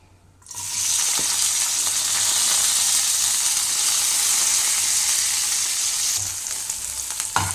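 Curry leaves and onions go into hot oil in a kadai for peanut chutney, bursting into a loud, steady sizzle after a brief quiet start that crackles on without a break.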